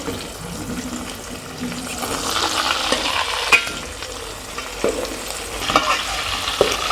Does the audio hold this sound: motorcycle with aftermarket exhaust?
no